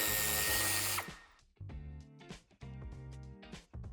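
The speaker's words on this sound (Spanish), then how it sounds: "quitaremos los dos tornillos del piloto y el tornillo del paragolpes" A power tool backs out the tail light and bumper screws on a 2019 Toyota Corolla sedan while a tow hitch is fitted: a loud, steady whir for about a second, then several shorter stop-start bursts of motor noise.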